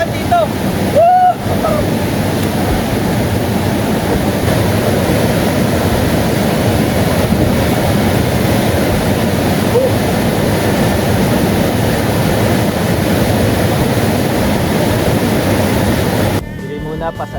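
Mahogany Falls roars as a dense, continuous rush of falling water, loud and close, with a short break near the start and a little wind buffeting at the end.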